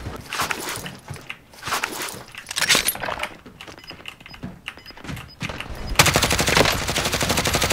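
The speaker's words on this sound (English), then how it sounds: "Someone shooting at me?" Gunfire in a multiplayer shooter video game, the player coming under fire: dense busy game audio with repeated sharp shots and clattering, a steady rapid burst of automatic fire near the end.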